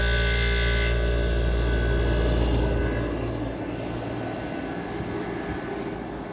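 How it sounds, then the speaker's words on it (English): A Crossley air conditioner with a reciprocating compressor starts up, a loud steady mechanical hum and rumble with broadband whir that settles slightly quieter after a few seconds, running alone without talk. "Now we'll fire up the Crossley."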